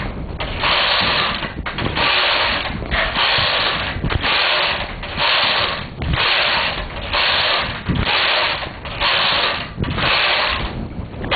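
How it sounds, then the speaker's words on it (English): Knitting machine carriage being pushed back and forth across a few rows after the latch tool cast-on, giving a steady run of loud, rhythmic mechanical clacking and whirring strokes, each pass about one second long, with no talking. "Now I'll knit a few rows."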